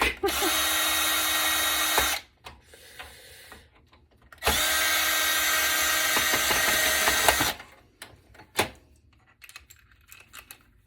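A power screwdriver whirs in two sustained bursts while removing screws from an HP computer, each run a few seconds long, followed by clicks, rattling and handling noises of the metal case up close.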